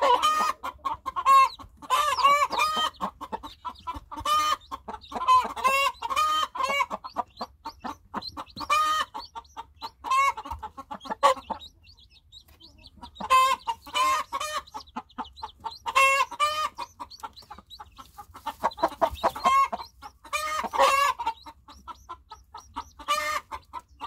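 A young breeding rooster and hens, including a brown-egg hen, cluck repeatedly in a steady stream of clear, close calls with short gaps, the rhythmic clucking carrying on for the whole stretch without talk.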